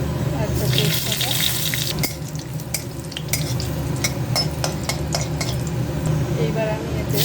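Mustard seeds, two dried chilies and a bay leaf sizzle in hot oil, a steady close frying hiss broken by sharp ladle scrapes and clinks against the pan.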